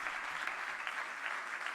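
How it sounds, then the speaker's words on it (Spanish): Warm audience applause at a ceremony in La Moneda honoring writer Mario Vargas Llosa, a dense, even roar of many clapping hands held steady throughout. "Agradecemos y premiamos con un fuerte aplauso"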